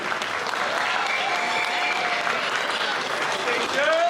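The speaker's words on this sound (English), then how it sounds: "You got to give this president a thundering round of applause" A crowd applauding a transit workers' union president, dense sustained clapping that stays loud and even from start to finish, with faint whistles rising above it near the end.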